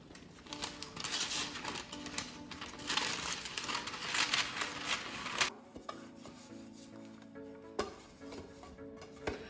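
Crinkly rustling of baking paper being pressed into a cake tin and handled up close for several seconds, then quieter scattered crackles and taps.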